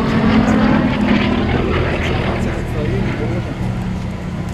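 A Gloster Gladiator biplane flies past at the Flying Legends airshow at Duxford, its steady propeller-engine drone loud and continuous with crowd or commentary voices underneath.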